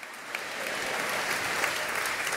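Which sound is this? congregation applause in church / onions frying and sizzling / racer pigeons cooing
congregation applause in church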